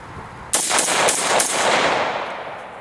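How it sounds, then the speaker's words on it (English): AR-style rifle fired in a rapid string of shots at a target, the shooter pulling it into the shoulder with a vertical foregrip; about four or five sharp close cracks in quick succession followed by a lingering echoing tail. "I'm going to put these rounds right on it pretty much as fast as I can while pulling the rifle into my shoulder."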